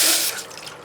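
Water pours into a cooking pan on the stove, a brief rushing splash that is loudest at first, then thins into lighter trickling, with no talking.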